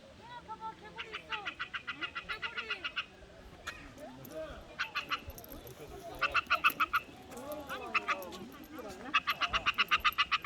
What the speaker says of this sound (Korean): 엄마 여기 개구리 있어.